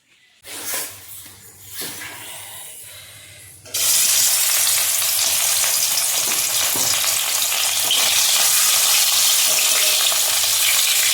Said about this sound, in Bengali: ওইদিকে আমি মাছ ভাজা বসিয়ে দিয়েছি